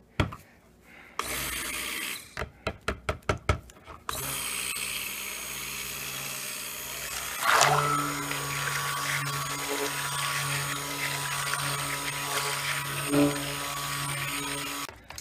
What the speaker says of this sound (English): And you know, I found that I'm not quite a fan of this blender.